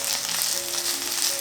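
Frozen vegetables frying in a pan make a close, steady sizzle, a dense crackling hiss that keeps going with no voices over it.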